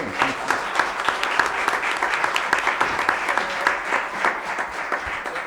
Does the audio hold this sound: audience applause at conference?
yes